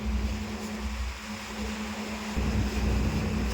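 Steady low engine rumble of fishing boats in a sea harbour, mixed with wind and lapping waves, constant throughout without talk.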